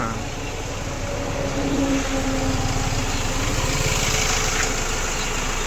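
A steady low engine drone and rumble from an Eicher truck cruising on a highway at night, heard continuously from inside the cab without a break.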